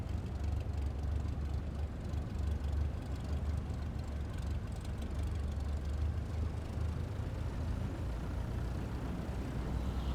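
A propeller aircraft engine in Microsoft Flight Simulator 2024 drones steadily while taxiing at low throttle, a constant low rumble with a faint whine and no breaks.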